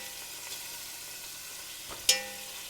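Seared pork being moved from a hot pan into a bowl, with a soft sizzle under faint scraping and one sharp, close metallic clack near the end.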